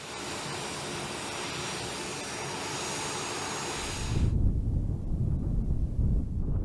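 Jet engines of an A-10 Thunderbolt ground-attack aircraft give a steady, loud, broadband roar that abruptly gives way to low rumbling wind-buffeted noise.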